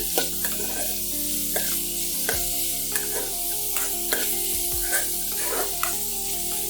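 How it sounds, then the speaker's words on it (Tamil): Small onion sautés in a pan for Tamil cabbage poriyal, an even sizzle punctuated by regular spatula scrapes and taps at a steady stirring rhythm. "ஆனியன் நல்லா டிரான்ஸ்பரண்ட்டாக ஆகிற வரைக்கும் வதக்குங்க."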